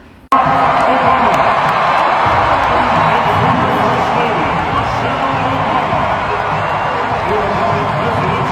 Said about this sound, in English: the crowd cheered. Everybody stood up. They got a standing ovation